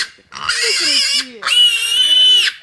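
Pet pigs fed on grain, bran and vegetables let out two loud, drawn-out squealing oinks close up, each lasting about a second, with a short pause between them.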